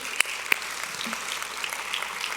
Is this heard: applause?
yes